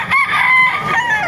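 A Gilmore gamefowl rooster crows loudly and close by at a busy Baliuag poultry market, one full drawn-out cock-a-doodle-doo call.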